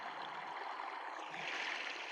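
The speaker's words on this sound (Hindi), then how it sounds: "पास में ही पानी की धारा बह रही थी।" Water in a small stream flows steadily nearby, a soft continuous rush and trickle heard alone and at low level.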